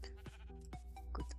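Sheep bleating in the Minecraft video game, several short repeated bleats in quick succession, close and clear with no talk.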